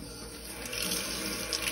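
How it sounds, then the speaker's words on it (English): A water tap runs warm water into a sink for watering an orchid, a steady rushing hiss that grows slightly stronger partway through, close and continuous with no talking. "Get warm water, I'll turn it down just a bit"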